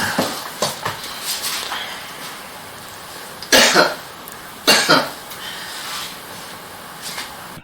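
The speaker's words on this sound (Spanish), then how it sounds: "lo que provoca que el usuario comience a toser el mecanismo de defensa de su cuerpo" A person coughing after inhaling hydrochloric acid fumes, several harsh close coughs in clusters with throat clearing, loud and alone over a faint hiss, with no talk.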